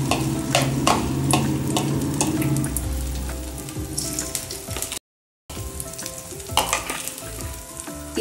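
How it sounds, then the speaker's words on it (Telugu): A spicy masala egg omelette fries in a pan over a medium flame, a dense steady sizzle and crackle with a few scraping clicks, close and continuous apart from a brief gap. "ఈ ఆమ్లెట్ని మీడియం ఫ్లేమ్లోనే ఫ్రై చేసుకోవాలి"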